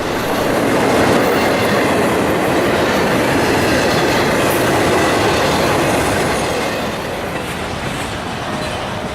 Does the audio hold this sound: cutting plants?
no